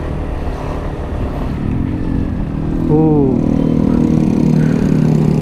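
A Yamaha NMAX scooter riding through a traffic jam, its engine droning steadily and close, rising slightly as it speeds up, with a vehicle horn sounding briefly among the surrounding traffic.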